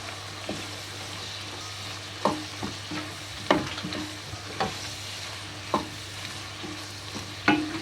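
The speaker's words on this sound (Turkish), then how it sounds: "Üzerine şöyle yarım yemek kaşığı salçamızı ilave ediyorum. Karıştıralım." Tomato paste stirred into a sizzling meat and mushroom sauté, heard as a steady frying hiss broken by repeated spoon scrapes and pan knocks at an uneven rhythm, close and moderately loud, with no voices.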